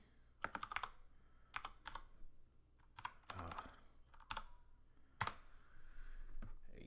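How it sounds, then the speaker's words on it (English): Someone types a short search on a computer keyboard, giving quiet bursts of close key clicks in irregular clusters with brief pauses and no speech. "If you just go to YouTube and just type in HD 750."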